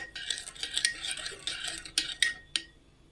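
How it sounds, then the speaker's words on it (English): Pasta salad dressing with chopped parsley stirred in a bowl with a utensil, giving a close run of light clinking and scraping taps that end in a few sharper knocks against the side. "I'm just gonna stir until it's all well mixed."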